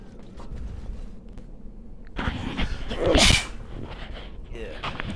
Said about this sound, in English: Just sneezed on my foot.